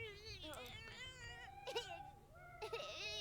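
A cat in The Sims 4 video game cries in repeated wavering, whining meows, mixed with other high plaintive wails, including a baby crying, over a low hum.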